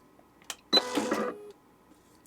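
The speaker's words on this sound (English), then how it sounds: "we got our machine put together. Let's turn it on and see if it's working" Janome sewing machine switching on, with a click followed by a short electronic whir and beep-like tone lasting under a second in a quiet room.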